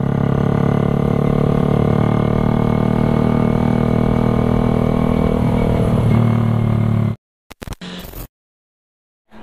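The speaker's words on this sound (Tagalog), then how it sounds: "Sinubukan lang natin yung ito, yung Creed 5 exhaust natin, GP Warrior Creed" A carbureted Suzuki Raider 150 with a Creed GP Warrior exhaust drones loud and close at a steady pitch, then cuts off abruptly, leaving a few short bursts before silence.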